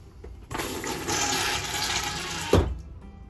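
A new Dometic 310 ceramic RV toilet flushes and drains: a steady rushing swirl of water for about two seconds, ending in a sharp close thump as the flush closes off, then quiet.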